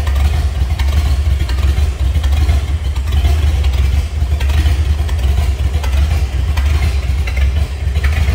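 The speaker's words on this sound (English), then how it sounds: "What a great sound, nice looking engine bay." A 1929 Ford Model A Roadster engine runs steadily close by, a low rumbling idle with mechanical clatter, continuous and loud with no talking.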